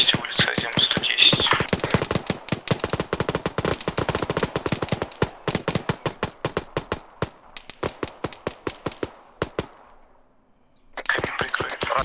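Dense automatic gunfire in the Arma 3 military game, rapid bursts crackling almost continuously for about ten seconds, a brief pause, then another loud volley; faint voices are underneath.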